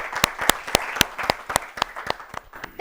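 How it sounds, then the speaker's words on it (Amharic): A studio audience on a children's quiz show claps for a girl contestant who just answered correctly, a steady burst of applause with sharp individual claps standing out close by. "አጨብጭቡላት በደንብ አድርጋችሁ"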